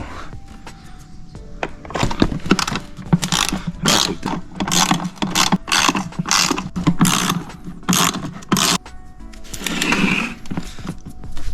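Ratchet wrench fitted with a 10 mm socket loosening intake parts on a 2004 Mustang GT, a run of quick, close clicking bursts with short pauses between them, then a final longer burst.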